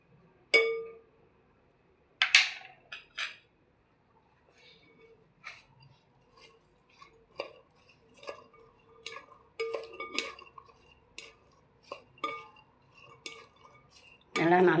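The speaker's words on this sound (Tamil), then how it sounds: "எல்லாம் நல்லா கிளறி விட்டுட்டு" Spoon clinks and scrapes against a bowl as papaya and grapes are mixed with pepper, cumin and salt, with scattered clattering strokes at close range and no talk.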